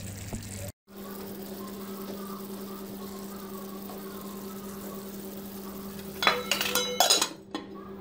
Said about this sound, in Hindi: हम ऊपर से ढक्कन दे देंगे